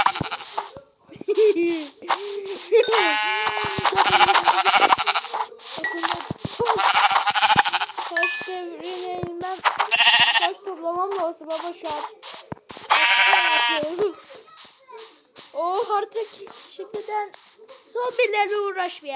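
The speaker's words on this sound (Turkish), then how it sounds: "Gel buraya koyuncuk." Sheep in Minecraft bleat repeatedly in short, nasal calls scattered through the scene, mixed with someone talking and small game sound effects.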